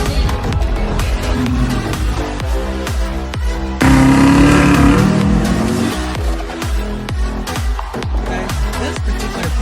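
A modified 2004 Mazda 3 driving on the road, its engine note loud and close with a pulsing, rhythmic drone that swells in a brief surge partway through.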